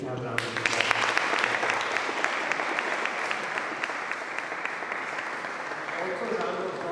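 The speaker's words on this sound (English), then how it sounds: "so can you please have a round of applause?" An audience at a speaking competition claps for the speakers in full, steady applause. The sound is dense and sustained, with close individual claps standing out.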